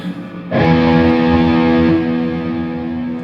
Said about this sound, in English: we can turn on the EQD Afterneath, which is a lot of delay